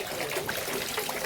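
Water trickling steadily from a mountain spring into a plastic bottle outdoors near Cherrapunji, a continuous soft splashing and gurgling flow, moderately close and fairly quiet, with no voices over it.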